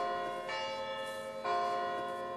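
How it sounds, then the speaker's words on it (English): Church bells ring beside a hilltop castle in a Swiss town near Interlaken, with sustained, overlapping tones and two fresh strikes, one early and one louder one later, resonating with no talking. "you can hear the bells"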